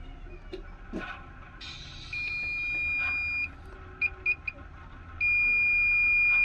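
An electronic buzzer on a Makita welding machine beeps in short bursts, then gives sustained shrill tones, close and loud over faint background noise.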